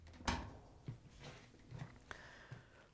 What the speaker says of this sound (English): First thing we're going to do is open up the dryer door.